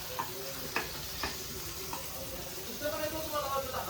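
Freshly caught river fish sizzle steadily in a hot pan while a utensil scrapes and taps as the pieces are flipped, with a faint voice in the background.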